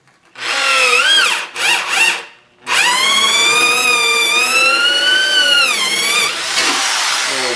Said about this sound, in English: Now I'll drill this hole here for the cold side.